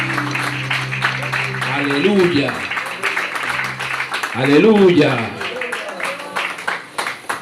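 A church congregation at a night vigil claps, with dense steady applause running under a voice chanting and cheering.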